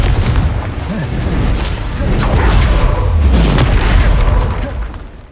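Booming blasts from the Confringo spell in Hogwarts Legacy, a couple of heavy explosions rumbling over sustained battle noise, loud and close.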